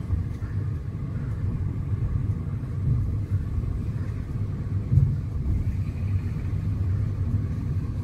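A Nissan Sentra with newly replaced sway bar bushings rolls over a pothole, giving a low cabin rumble with a brief thump in the middle and no clunking, no speech.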